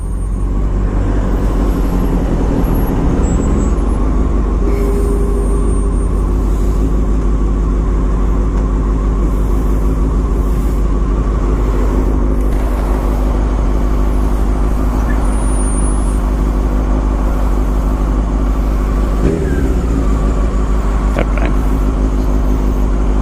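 BMW motorcycle idling and creeping in stop-and-go traffic, a steady low engine rumble with surrounding road vehicle noise and a brief brake hiss, continuous and close throughout.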